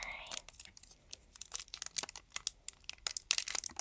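A small packet of polymer clay being torn open by hand, crinkly plastic ripping in a quick series of sharp, close tears and rustles, growing busier toward the end with no one talking.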